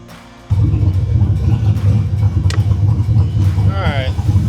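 A car fitted with a Holley digital dash starts and idles, a sudden loud engine rumble kicking in after a short quiet stretch and then running steadily and close, with a brief higher squeal near the end.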